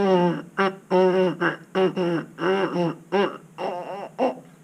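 Choppy, weak lip buzz on a trombone mouthpiece: a string of short, uneven bursts with wavering pitch and gaps between them, moderately quiet.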